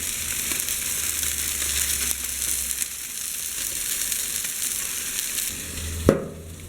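Food frying in a pan gives a steady close sizzle and hiss, ending with a single sharp knock or scrape of a utensil just before a sudden cutoff.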